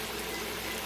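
Steady bubbling and rolling of water boiling hard in a pot, a continuous hissing churn at moderate volume with no talking.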